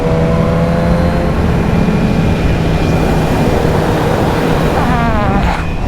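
A Himalayan motorcycle accelerates hard away, a loud, close roar mixed with rushing wind-like noise, with the engine pitch climbing in a rising whine toward the end.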